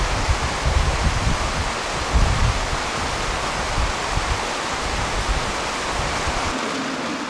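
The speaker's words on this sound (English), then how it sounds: "This is the picturesque River Erne running through Ivybridge." The River Erne rushing through Ivybridge, a steady, full broadband roar of flowing water close by, with no voices.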